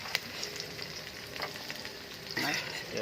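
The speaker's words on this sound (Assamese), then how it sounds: "পিঁয়াজ ভজা হৈ গ'ল, তেজপাত দিয়া হৈছে" Onions and bay leaves fry in hot oil in a pan while a Kuchiya recipe is cooked. A soft, steady sizzle runs throughout with light stirring scrapes, and a brief swell of louder frying comes near the end.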